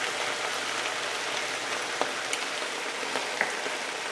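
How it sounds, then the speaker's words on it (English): Sausage stir-fry hissing and crackling steadily in a hot pan as soy sauce is poured in, a dense close sizzle with a few sharper pops and no talk. "So we are going to add 1/4 of a cup of soy sauce."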